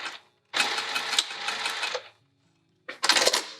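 A sewing machine stitches sling pieces together in two loud bursts, a longer run of rapid whirring stitches, a short pause, then a second brief run.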